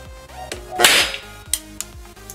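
A small capacitor wired to a 120 V transformer bursts under overload: a steady electrical hum, then a loud, close crackling blast lasting about a quarter second, followed by a few sharp snapping pops.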